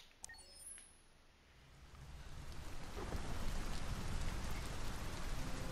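Steady rain pouring down in the video game Detroit: Become Human, building from a lighter patter to a dense, even downpour that fills the background; no voices.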